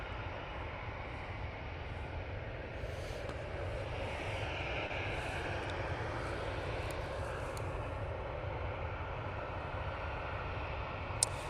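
A Ryanair Boeing 737-800 jet departs Manchester Airport, its engines giving a steady, broad roar that holds at an even level throughout, heard from a distance with no voices.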